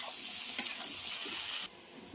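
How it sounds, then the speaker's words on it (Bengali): Ridge gourd frying with onion in a pan gives a steady, fairly quiet hiss of sizzling with one sharp stirring clatter. The sizzle cuts off abruptly near the end. "পেঁয়াজের সাথে ঝিঙেটাকে এবার ভেজে নেবো।"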